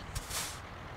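A short hiss of air releases as the parking brake is set on a truck in American Truck Simulator, a brief faint burst of air.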